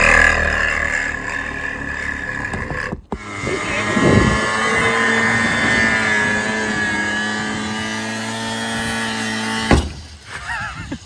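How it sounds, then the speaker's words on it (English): An angle grinder whines steadily at close range for several seconds while working rust on a Volvo mini truck. The start and end are abrupt, and gritty bursts mark where the disc bites the metal. "Just use the angle grinder."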